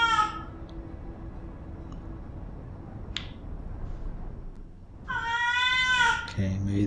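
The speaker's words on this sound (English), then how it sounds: "My cat wants to explore this place as well." Pet cat meowing twice, one short meow at the start and a longer, louder one near the end, heard close by over soft, steady video game ambience.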